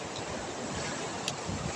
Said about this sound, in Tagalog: tunog ng hampas ng alon